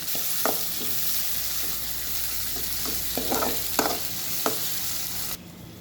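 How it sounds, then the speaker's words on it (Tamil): Mustard seeds, curry leaves and onions sauté in hot oil, a dense continuous sizzle with scattered spatula clicks and scrapes, cutting off abruptly near the end, with no talking. "கடுகு சேர்த்துருக்காங்க, கருவேப்பிலை, வெங்காயம் சேர்த்துருக்காங்க. நல்லா வதங்கட்டும்"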